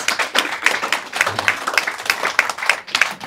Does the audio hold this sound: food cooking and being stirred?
no